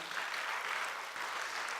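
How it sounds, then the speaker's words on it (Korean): Audience applause at a Korean nonprofit forum, a faint, distant, even patter of many hands sustained throughout. "우리 박수 한번 감사 박수 쳤으면 좋겠습니다"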